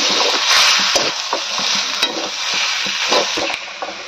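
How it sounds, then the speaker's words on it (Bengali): A grandmother works chicken pakora batter with a metal spatula, giving steady close scraping and stirring strokes with a broadband sizzle-like hiss and periodic clacks against the pan, no voices. "ঠাকুমা এখন খুন্তি দিয়ে নেড়ে নিচ্ছে।"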